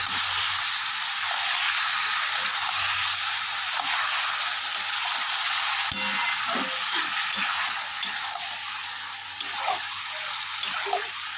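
Food sautés in a hot pan while being stirred, a loud steady sizzle and hiss with occasional scraping knocks toward the end, no talking.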